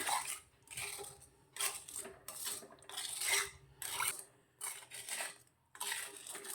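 Homemade hair dye mixture stirred in a bowl, a utensil scraping and clinking against the sides in repeated bursts roughly every second, moderately close and clear, with no talking.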